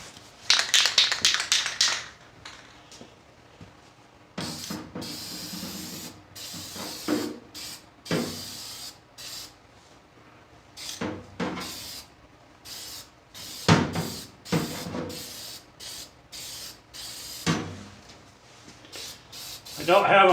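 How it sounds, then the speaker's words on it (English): Aerosol Rust-Oleum rust reformer sprayed onto rusty spots of an old Sears Craftsman 12-drawer top tool box, with a long hiss at the start and several shorter bursts afterward, mixed with light handling clatter. "Rust-Oleum rust reformer."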